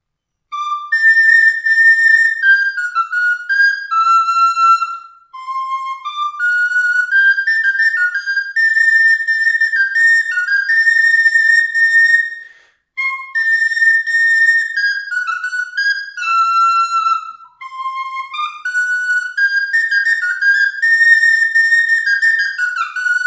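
A tiny, very high-pitched garklein recorder, pitched an octave above the soprano, plays a bright melody in flowing phrases with brief pauses between them, clear and alone with no other sound.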